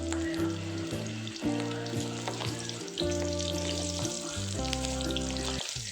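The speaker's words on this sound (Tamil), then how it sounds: "ஃபஸ்ட்டு நான் ஒரு பீஸ் எடுத்து உள்ளே போடுறேன். ஸோ இது நல்லா பொரியணும்." Pieces of fish sizzle and fry steadily in hot oil for a fish fry, a continuous crackling hiss with occasional stirring clatter, close and fairly loud with no talking.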